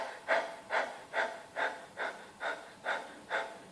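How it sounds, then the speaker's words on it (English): Rhythmic panting breath exercise done over the tongue: eight steady, evenly spaced breathy pants, close and moderately soft, with no speech. "So just begin panting over your tongue."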